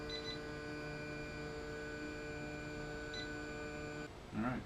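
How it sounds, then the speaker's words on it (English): Two short high electronic beeps from an Anycubic i3 Mega 3D printer homing its axes sound a few seconds apart over a steady mechanical hum, followed by a brief rustle at the end. "I'm not sure what those beeps mean as it's coming down"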